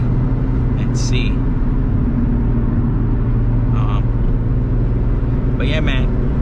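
A car with a new clutch and flywheel accelerating hard in a pull, its engine a loud, steady low rumble from inside the cabin with no letup.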